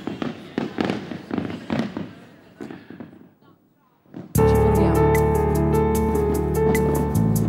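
Fireworks burst loudly and suddenly during an outdoor fashion show, with a rapid string of sharp cracks and booms over a sustained music track, after a stretch of talking and singing voices.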